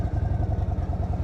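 An Indian Sport Chief RT motorcycle engine idles close by with a deep, even, rapid pulsing thump.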